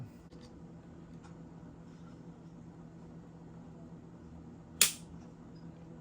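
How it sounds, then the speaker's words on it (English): The trigger of a PSA Dagger pistol is pulled against a pull-weight gauge, producing one sharp, brief, close metallic click after a stretch of near silence. "Let's get a pull weight on it."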